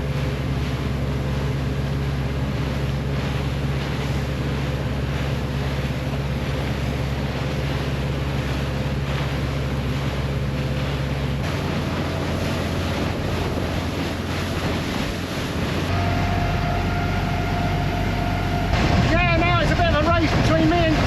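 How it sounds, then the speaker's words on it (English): A small boat throttling up near cruise ships off the Hamble, with a loud steady engine drone and rushing water and wind that swell and shift as the engine speed rises. "When Queen Anne clears me, I'm going to throttle up and head back towards the Hamble."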